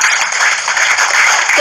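An audience at an indoor seminar about a car and debt-payoff program claps for the person who invited the speaker: dense, steady applause filling the whole moment, with faint voices mixed underneath.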